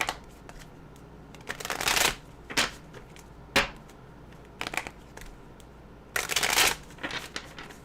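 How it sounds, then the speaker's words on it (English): Deck of cards shuffled during a tarot reading, several quick riffling bursts separated by pauses, close and moderately loud over a quiet room. "let me cover this and start shuffling this deck"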